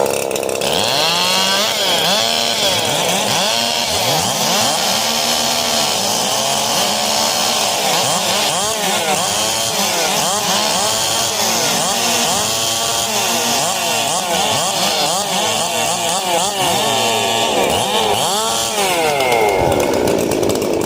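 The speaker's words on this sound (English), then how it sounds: "Gentlemen, 30 seconds to warm up your saws." Several chainsaws rev and idle together at a wood-cutting competition, engines rising and falling in overlapping loud bursts for the whole stretch, close and continuous with no talk.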